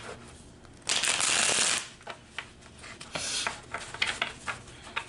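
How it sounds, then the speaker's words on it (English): A deck of tarot cards is shuffled close up, one loud sustained riffle followed by several shorter quieter shuffling and tapping bursts, with no talk. "let's go ahead and shuffle the last deck here"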